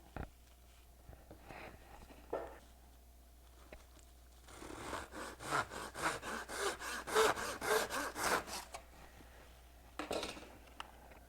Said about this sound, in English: now I'm ready to cut it in half and install it. So I'm just going to get my guillotine here, put it right in here.